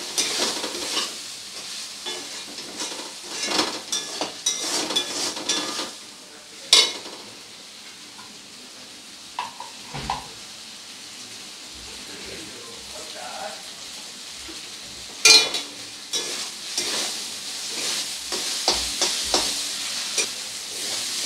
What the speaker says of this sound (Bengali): আদা রসুন বাটাটাকে দিয়ে খুব ভালো করে কষিয়ে নেব একবার পেঁয়াজের সাথে।